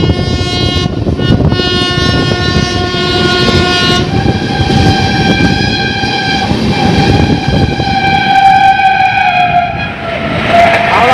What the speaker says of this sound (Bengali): হবে হাওড়া থেকে জবলপুর শক্তিপুঞ্জ এক্সপ্রেস।